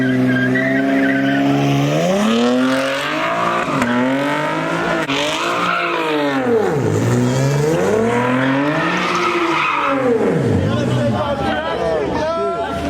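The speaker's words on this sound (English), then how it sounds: "now here comes the 2019 fucking Camaro" A 2019 Camaro accelerates hard at a crowded car meet, its engine climbing and falling in loud sweeping revs with tire squeal, while the crowd chatters and cheers throughout.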